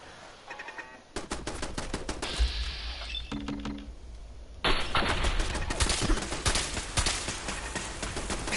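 Gunfire in the video game Fallout 4, with rapid bursts of shots crackling through the scene and a louder, denser volley of firing kicking in halfway through.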